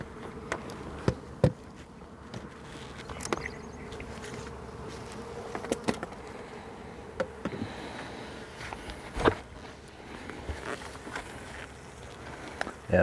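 Honey bees buzz steadily around an open beehive during an inspection, a low continuous hum close by, broken by faint scattered knocks and handling sounds.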